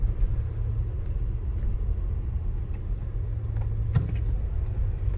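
Inside a second-generation Toyota 4Runner on a test drive, a low engine and road rumble holds steady, with a few faint knocks and clicks.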